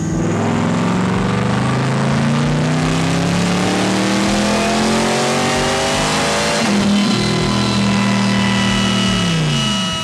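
A stock-engine twin-turbo V8 C8 Corvette making 900 horsepower on 11 pounds of boost revs loud and close, its engine note climbing and holding for several seconds with no talk.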